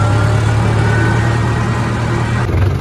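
A tractor engine runs loudly and steadily during a soybean harvest, giving a close, continuous low rumble with a constant drone and no talking.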